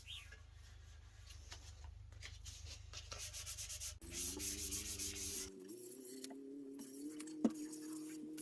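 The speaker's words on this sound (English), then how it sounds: "Just get it all smoothed off. 500 grit's fine for it." Hand sanding with 500 grit sandpaper smooths a wooden instrument neck in close, soft rubbing strokes. Later the strokes overlap a steady tonal hum and a single sharp tap.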